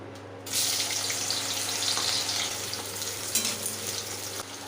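Plantain pieces drop into hot oil in a wok for shukto, a sudden loud sizzle that starts after a short pause and then holds steady and close, with a few crackles.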